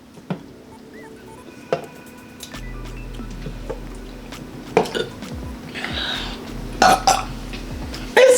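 Burps after drinking soda during a burping challenge, several short loud belches scattered among quiet handling clatter and small noises, no speech.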